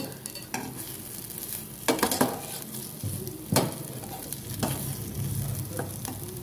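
Ridge gourd mash stirred with raw mustard oil in a pan over the heat, a steady sizzle broken by several sharp scrapes and clacks of a spoon against the pan, no talking.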